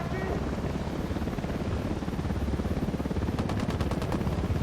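Helicopter rotor thrum from the video game Ghost Recon Wildlands, a loud continuous low throb filling the whole stretch, with rapid regular chopping pulses swelling near the end.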